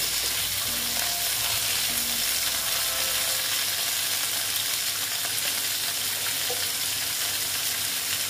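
Potatoes fry in hot oil for a moong dal and ridge gourd dish, producing a constant close sizzle with light crackling and a few faint clinks, and no talking.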